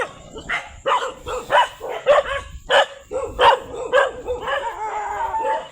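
Many dogs barking in a village street at night, repeated loud yelps and barks from several animals overlapping in an irregular rhythm, some close and some farther off.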